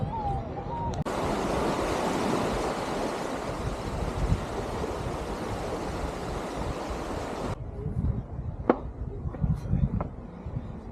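Waves wash onto a black sand beach on Madeira, a steady roar of surf in the middle of the stretch with wind buffeting the microphone before and after.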